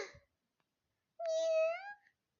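A single clear, drawn-out cat meow rises and falls over under a second, close and loud, following a brief faint voice fragment, heard during a Thai manga narration.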